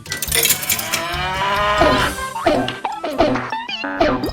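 A bull in a Scooby-Doo ghost town cartoon gives a long, loud close moo followed by a string of springy, bouncing cartoon effects and clanks, with no talking.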